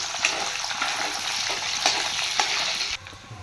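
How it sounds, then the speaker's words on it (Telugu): Green chilies fry in hot oil with a loud, steady sizzle and crackle up close, interrupted by occasional stirring scrapes before the hiss drops off suddenly near the end. "ఇదే ఆయిల్లో పచ్చిరేలు వేస్తున్నాను కూడా బాగా వేగాలి"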